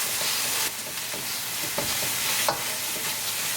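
Spices, cumin powder, coriander powder and garam masala, fry in a hot oil tadka while being stirred, giving a soft continuous sizzle with occasional scrapes and clicks of the spoon; fairly quiet, with no speech.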